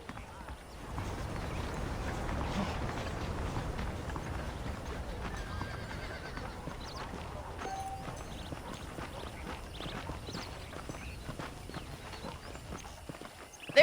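Horse hooves clip-clop steadily at a walking pace over a low ambient background in the video game Red Dead Redemption, moderately quiet and continuous.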